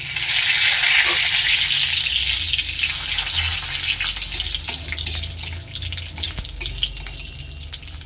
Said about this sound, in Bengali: তেল গরম হয়ে গেছে একটা শুকনো লঙ্কা দিয়ে দিচ্ছি কিছুটা কাঁচা জিরে দিয়ে দিলাম আর দিয়ে দেব একটা তেজপাতা